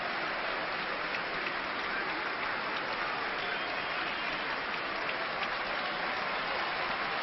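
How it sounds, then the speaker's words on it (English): Steady, dense applause from a stadium crowd at a Roma versus AC Milan football match, greeting a substituted player as he leaves the pitch; a broad, distant wash of clapping that holds evenly throughout with no clear talk over it. "Chiesa gets a really deserved round of applause there"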